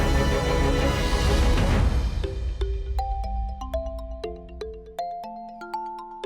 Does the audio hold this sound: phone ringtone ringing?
yes